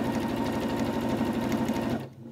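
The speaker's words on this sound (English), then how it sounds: "we're just going to sew right up there" A sewing machine stitches fabric for a face mask, running with a steady fast mechanical whir and regular needle ticks close up, then stopping abruptly near the end.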